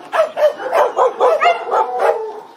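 Dogs just arrived at a shelter from the pound bark repeatedly, about eight loud close barks in a quick, even rhythm, with yelping tones.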